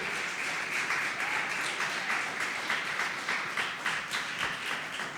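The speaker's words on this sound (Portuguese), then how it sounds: "Você pode aplaudir o Senhor," A church congregation applauds steadily throughout, a dense wash of many hands clapping at an even loudness with no voices standing out.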